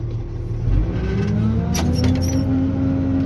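A motor grader's diesel engine runs steadily in second gear, a loud close drone that rises slightly in pitch as it pulls forward, with a brief faint high squeak partway through.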